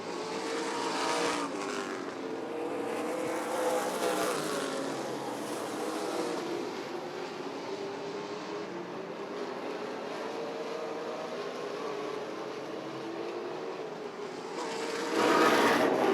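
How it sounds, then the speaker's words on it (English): NASCAR late model stock cars race at Rockford Speedway, a continuous layered engine roar that swells and fades as packs of cars sweep past, with a louder car surging close near the end. "You can see the B103 car of David Thomason, that rear end starting to get a little loose on him there as he's coming out of the turns"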